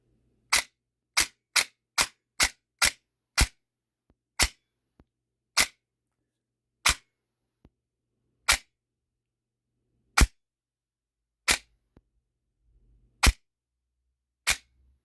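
An airsoft DSG gun fitted with a 3D printed piston fires semi-automatic, a quick run of crisp snapping shots at first, then single shots spaced further apart, each loud and close.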